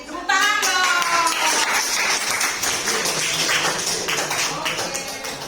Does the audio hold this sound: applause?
yes